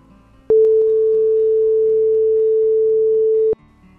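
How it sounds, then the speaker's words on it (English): A steady, pure electronic tone generated in Audacity holds at one pitch for about three seconds, starting and stopping abruptly, with no other sound. "Tone generates 3 different kinds of tone depending on the waveform."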